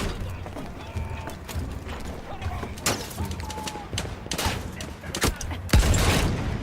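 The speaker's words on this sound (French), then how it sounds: "Il y a un mec qui me tire dessus" Gunfire in the video game Battlefield 1, with scattered sharp shots and bursts over a busy battle ambience, moderately loud, with a louder blast near the end.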